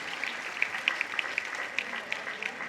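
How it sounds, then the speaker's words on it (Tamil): Scattered audience clapping at a women's day celebration honoring student speakers, a faint, thin patter of separate handclaps over a quiet hall rather than a full ovation. "ஒரு பலத்த கைத்தட்டலோடு நீங்கள் பாராட்டை சொல்ல வேண்டும்"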